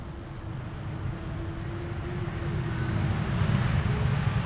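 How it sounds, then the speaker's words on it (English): A geared turbofan airliner from 2023 arrives at Amsterdam Schiphol in a crosswind, its engines spooling. A broad, steady roar slowly swells, with a thin sustained whine running through it, heard from a distance. "Whenever those geared turbofan engines spool up or spool down, that's the typical sound that you hear"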